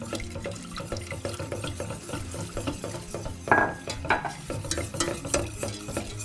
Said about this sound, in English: We'll just whisk that in.